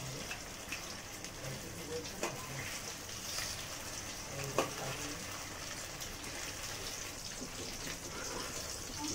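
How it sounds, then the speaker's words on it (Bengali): Pakoras frying in hot oil in a home kitchen, a steady dense crackle and sputter throughout with a few sharper pops, moderately close. "ছেলের জন্য 4-6টা পকোড়া ভেজে দিচ্ছি"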